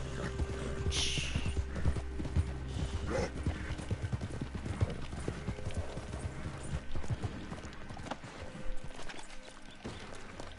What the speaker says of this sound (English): Why is my horse freaking out?